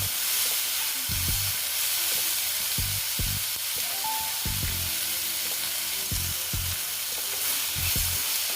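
Ghugni ingredients, chickpeas and mung beans boiled with salt, fry in a pan with a steady broadband sizzle, punctuated by repeated low knocks and scrapes of a spoon against the pan.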